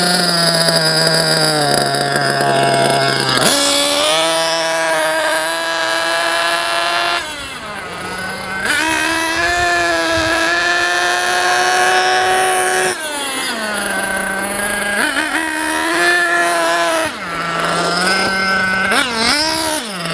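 Close and loud, a JQ Products THERTR nitro RC engine screams through break-in as its mixture is leaned further, the sharp buzzing drone repeatedly rising in pitch, dipping briefly, then climbing again without pause.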